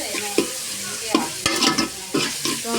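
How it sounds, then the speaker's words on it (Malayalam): Onions are sautéed and stirred in a pan in a home kitchen in Alappuzha. There is a steady sizzle, with repeated scraping strokes of the spoon every half-second or so. It is close and loud, with no talking. "നമുക്ക് സവാളിനെ വഴറ്റി വഴറ്റി വഴറ്റി കൊടുക്കാം"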